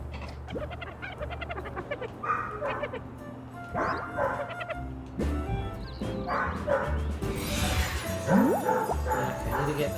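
A dog barks over a steady game soundtrack in Little Kitty, Big City, giving short repeated yips and woofs at moderate volume with faint whimpering and bird-like chirps mixed in.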